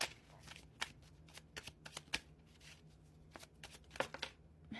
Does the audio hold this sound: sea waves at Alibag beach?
no